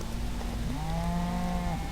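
Cattle in a field heard during an outdoor hog hunt, one long, wavering moo close at hand over a steady hiss of wind or rain.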